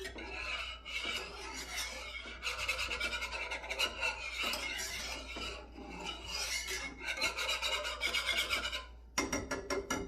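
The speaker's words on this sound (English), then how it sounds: "we're gonna whisk our sauce together" Mac and cheese sauce whisked briskly in a pot, a close, steady scraping and rasping of the whisk against metal that continues in bursts with short pauses, with no talk.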